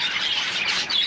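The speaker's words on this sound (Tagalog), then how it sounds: "Ito yung flight cage ko. Diyan ko nilalagay yung mga ibon ko" Pet birds in a 2-by-4-foot aviary flight cage give brief high chirps and squawks, close and fairly clear, with no talking.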